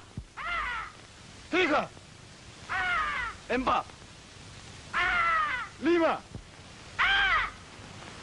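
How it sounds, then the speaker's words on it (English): A white peacock in the Borneo jungle gives about four loud, wailing calls, evenly spaced, with shouted voices between them. "That was the call of the white peacock."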